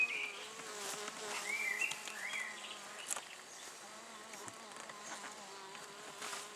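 Honeybees drone in a steady, close buzz around a top bar hive, with individual bees zipping past in rising and falling whines and the occasional faint knock.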